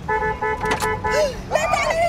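A car horn toots several times in short, sharp bursts, fairly close, with traffic noise and people talking over it.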